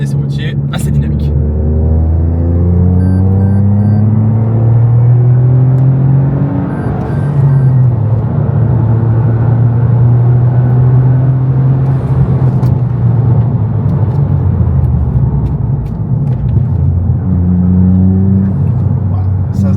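A Toyota Yaris GR on a dynamic road test gives a loud, steady engine drone with rising and falling pitch as it accelerates and shifts. Speech runs over it throughout.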